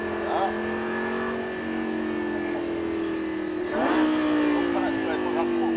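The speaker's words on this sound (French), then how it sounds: "Maintenant, et on commence à accélérer un peu plus." A Lamborghini LP560-4 drives a race track during a driving course. Its engine drones steadily, then revs up harder partway through. People talk over the engine noise throughout.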